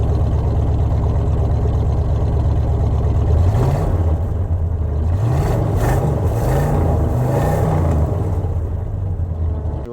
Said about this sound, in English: I recorded a video of revving it up